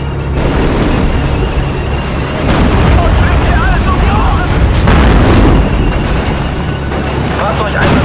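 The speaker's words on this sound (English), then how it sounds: "Raketen geladen, Kommandant. Aus allen Rohren. Feuer frei." Rocket artillery fire in the World War II game Steel Division Normandy: loud, continuous rumbling booms and bursts of launches and impacts, with voices speaking over the barrage.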